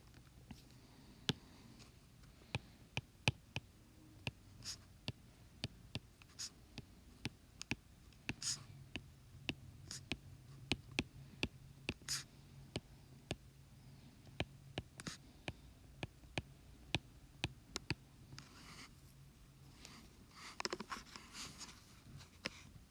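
Notes being written down by hand, probably pen on paper: a long, faint run of soft, irregular ticks and scratches close by, with a slightly busier patch near the end.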